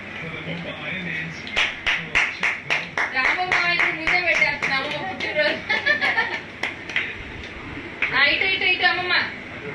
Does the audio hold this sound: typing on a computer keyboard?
no